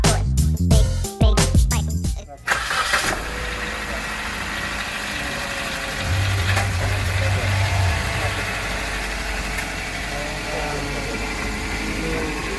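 Suzuki Ertiga engine idling steadily after its spark plugs were cleaned, a low even hum after a few seconds of mechanical clatter at the start, with someone talking.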